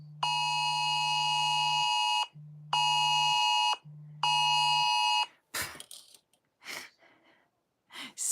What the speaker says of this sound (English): They were doing a test of the phone system.